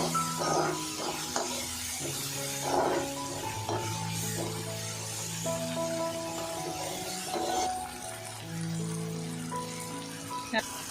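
Chicken liver and onion fry in oil in a pan, giving a soft, steady sizzle with occasional stirring scrapes. Tonal background sounds and a voice talking run underneath.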